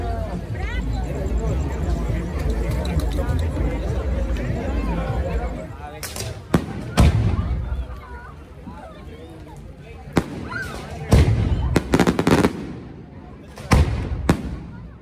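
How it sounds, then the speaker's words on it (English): Fireworks burst directly overhead during Day of the Dead festivities in Oaxaca, with several sharp, loud cracks and booms spread across the second half, after a noisy stretch of crowd chatter and voices at the start. "I saw fireworks before, but this is the first time I see them right over me."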